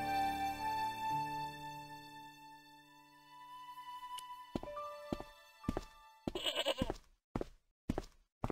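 A goat bleats in the Broken Sword point-and-click adventure game, its cry held over a musical tone, followed by a run of thuds and knocks.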